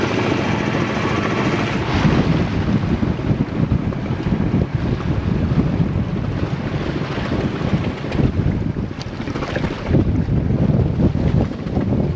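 Strong, gusty wind buffeting the microphone aboard a sailboat on the Pacific, with a steady roar and rushing water beneath, swelling and easing over several seconds; no voices.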